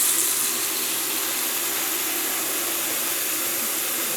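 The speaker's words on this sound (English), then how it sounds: "I'm going to fill it up with water." Tap water runs steadily into a bathroom sink during a clog-clearing job, a constant broadband rush that stays loud and even throughout with no talking over it.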